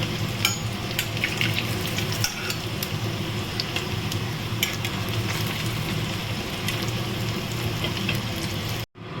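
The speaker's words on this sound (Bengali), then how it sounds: "দেখো, কোপ্তাগুলো আমার ভাজা হয়ে গেছে। এটা আমি পুরোটাই সাদা তেলে করছি" Papaya koftas frying in white oil make a steady, dense sizzle with crackling pops throughout, close and continuous, with faint utensil sounds.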